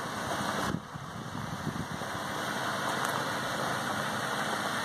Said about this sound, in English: It is a six-cylinder engine.